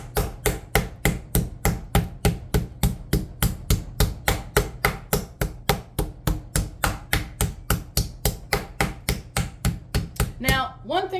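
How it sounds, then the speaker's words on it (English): A chicken breast wrapped in plastic wrap is beaten flat with a meat pounder: loud, evenly spaced thuds in a steady rhythm, about three or four per second, close up and without speech. "you start pounding it with your little pounding tool"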